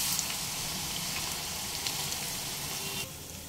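Sliced onions deep frying in hot oil over a high flame give a loud, dense, continuous crackling sizzle close by. It eases slightly near the end, and no one speaks.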